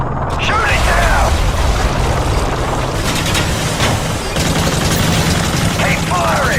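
Call of Duty combat roars with heavy, continuous gunfire and booming blasts, loud and close, while voices shout over the din.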